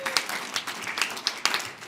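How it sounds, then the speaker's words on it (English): Audience applause closes a talk on demographic shifts in the Midwest, a soft, fairly thin patter of clapping with a few sharper individual claps standing out. "Let's give a round of applause for Dr. Brower,"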